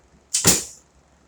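A target-tip arrow shot from a bow at near full draw strikes a target with a metal plate at the back, giving one sharp, close whack that decays quickly into quiet.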